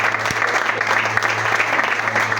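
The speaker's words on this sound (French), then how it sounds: "Let's put our hands together for the wife." Applause for the pastor's wife at a church service, with a congregation clapping loudly and steadily in a sustained burst. A faint murmur from the crowd sits underneath.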